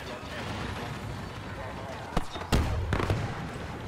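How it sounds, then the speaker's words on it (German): A grenade explodes in the multiplayer shooter Star Wars Battlefront II, a sudden loud blast followed by a few rumbling bursts, set against steady battle noise. "Granate auf dem Weg. Dann Granate raus."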